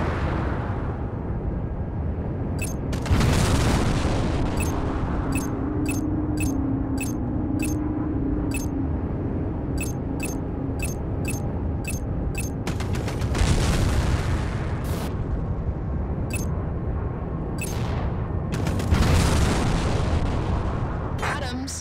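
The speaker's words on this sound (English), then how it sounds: "Don't forget, plasma cannons drain weapons energy." Plasma cannons firing in the space combat game Strike Suit Zero: a rapid string of sharp, bright energy shots in bursts over a continuous roaring engine and combat rumble, with heavier blasts swelling in between.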